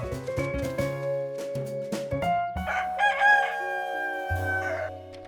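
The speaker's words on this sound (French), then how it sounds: "Et le lendemain matin, quelques secondes après le chant du coq" A cartoon rooster crows at dawn in a French-dubbed animated episode of Curious George, a drawn-out call layered over a bright, plucky musical score.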